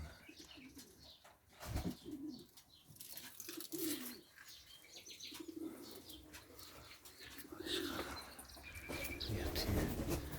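Hünkari pigeons coo softly in a loft, with occasional wing flutters and faint chirps, while people talk quietly nearby.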